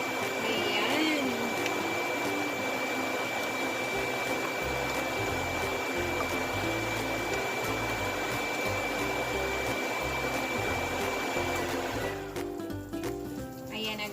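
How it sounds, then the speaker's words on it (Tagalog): A loud kitchen exhaust fan runs continuously while a chicken gizzard stew cooks, giving a steady broadband whoosh with a faint whine. Low clatter and voices sit underneath, and near the end the fan noise cuts off. "yung exhaust fan kasi medyo maingay na talaga"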